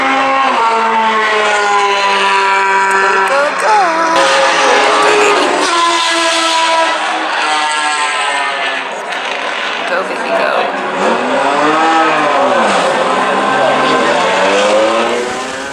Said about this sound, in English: this is actually me lapping the little Lotus, the Jim Clark car